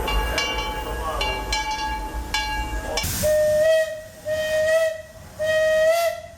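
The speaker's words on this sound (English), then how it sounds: "The Disneyland Limited is now arriving from a trip around Walt Disney's Magic Kingdom" Disneyland Railroad steam train pulling into the station, with hissing steam and rumbling track noise, then several loud, sustained steam whistle blasts sounding in repeated bursts close by.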